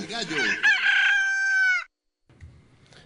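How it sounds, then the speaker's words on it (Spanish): A rooster crows in a single long, loud cock-a-doodle-doo as a radio segment jingle, its call rising and then holding steady before cutting off abruptly into near silence, followed by faint low rumbling. "El despertar del gallo."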